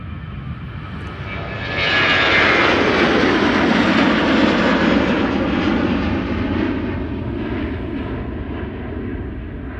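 A jet airliner takes off at Amsterdam Schiphol Airport, its engine roar rising quickly to a loud, broad rumble that holds and then slowly fades as the aircraft climbs away, with no voices.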